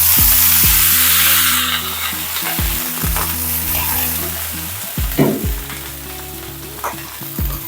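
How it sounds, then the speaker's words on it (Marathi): Water splashed onto a hot oiled griddle bursts into a loud hissing sizzle that slowly fades, with a few stirring or wiping scrapes across the pan. "थोडा पाण्याचा हपका या तव्यावर मारायचा"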